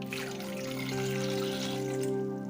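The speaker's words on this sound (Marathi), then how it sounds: "पाणी घालायचंय" Water is poured into a cooking pan holding tomatoes, a close, steady gurgling stream with ringing tonal resonance as the pan fills, with no talking.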